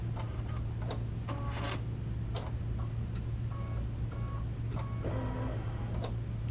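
An embroidery machine stitching out 3D organza flowers: a steady, close mechanical hum with rapid rhythmic ticking and clicking of the needle, continuous and fairly quiet.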